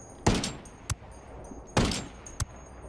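Gunfire from an M110 sniper rifle in the video game Ghost Recon Wildlands: two sharp, loud shots about a second and a half apart, each followed by a short echoing tail and a fainter distant crack.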